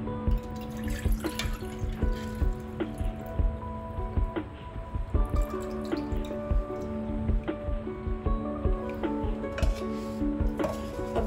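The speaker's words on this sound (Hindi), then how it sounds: "और अब मुझे इसका पानी छानना है" Water from soaked ingredients is strained for a homemade hair remedy, dripping and trickling in an uneven rhythm with wet splashes, close and fairly loud and not covered by speech.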